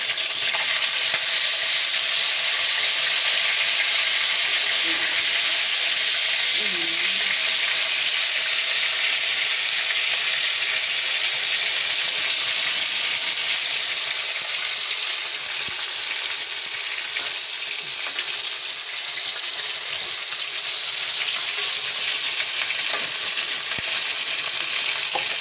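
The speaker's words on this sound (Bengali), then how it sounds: "এখন আমি মাছটাকে উল্টিয়ে দিব।" Snakehead fish fries in a pan with a continuous bright hiss of hot oil, an even sizzle that holds steady for the whole stretch with no talking.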